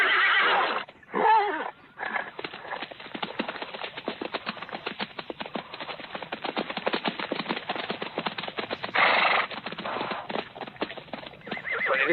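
Horses in a western film gallop with steady, rapid clip-clop hoofbeats across the whole stretch, broken by loud whinnies near the start and again toward the end.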